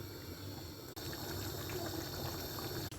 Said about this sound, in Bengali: এখন মাংসগুলো দিয়ে দিই, মতো পানি দিয়ে দিলাম